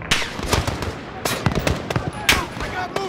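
Rapid bursts of automatic gunfire and single shots in the Call of Duty: Modern Warfare 2019 embassy mission, loud and close, cracking in irregular clusters with game voices mixed in.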